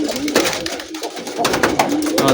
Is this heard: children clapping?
no